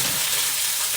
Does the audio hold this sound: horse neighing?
no